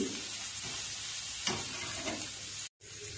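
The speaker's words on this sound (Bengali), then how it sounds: "ঘি দিয়ে ভালো করে চালটা ভেজে নেব।" Rice frying in ghee in a new pot for payesh, stirred with a steel spatula: a steady close sizzle with a few scraping strokes, briefly cut to silence near the end.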